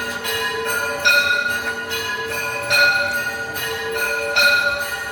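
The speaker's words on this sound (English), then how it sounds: "So this is the time of Aarti, Sandhya Aarti during the evening time. So just feel the bell sound during the evening" Temple bells ring during evening Sandhya Aarti at Kanak Bhavan, with strong metallic strikes roughly every one and a half seconds over a continuous ringing shimmer, fairly loud and close, with no talk.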